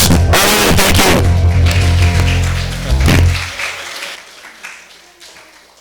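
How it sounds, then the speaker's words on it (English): Loud applause from a congregation at a Sunday service, honoring the percussionists, opening with a burst of clapping over lingering music that tapers off over several seconds. "Applause for my percussionists."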